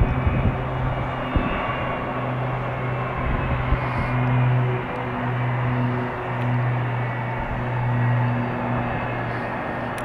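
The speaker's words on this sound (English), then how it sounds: "Delta's 757 rocket ship dash, it's the 300." Delta Boeing 757-300 jet airliner at Tampa International Airport on a chilly day, a steady loud engine roar with sustained droning tones throughout, close and heard alone.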